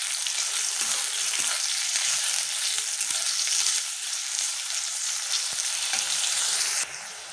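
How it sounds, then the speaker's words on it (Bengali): Chopped onions sizzle steadily in hot oil in a wok for an egg curry, a dense, loud frying hiss with occasional scraping clicks as they are stirred, ending in a brief softer moment. "পেঁয়াজগুলো দিয়ে ভালো করে নেড়ে নেবো।"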